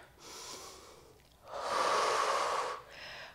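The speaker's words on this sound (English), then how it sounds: "breathing in through the nose slowly" Slow breathing during a Pilates workout, with a long, loud, airy breath through the nose and softer breaths before and after it, close up with no talking.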